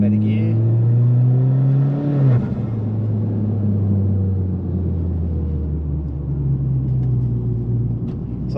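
A Mitsubishi Evo X with SST dual-clutch transmission pulls away from a standstill in first gear: the engine rumbles and climbs in pitch, a quick upshift drops the revs, and a loud steady drone follows while a voice talks over it.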